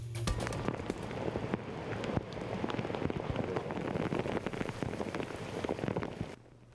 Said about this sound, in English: Another round of rain is hitting the county right now.